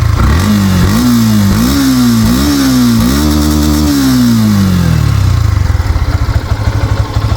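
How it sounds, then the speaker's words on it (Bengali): A Yamaha FZS V2 motorcycle engine runs loud and close, revving in several rising bursts before settling into a steady, smooth idle with a rapid putter. "ইঞ্জিন সাউন্ড খুবই সুন্দর স্মুথ সাউন্ড আছে"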